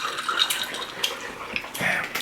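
Sugar cane drink poured into a cup, a close, loud liquid splash and gurgle that swells and surges in short waves over about two seconds.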